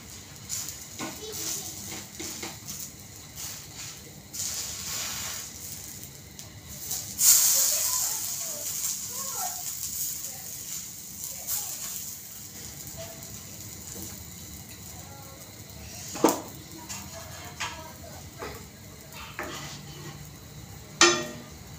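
Pav buns pressed onto a hot griddle with pav bhaji, toasting with a soft sizzling hiss, scrapes and occasional spatula clanks. Intermittent quiet talk can be heard over it.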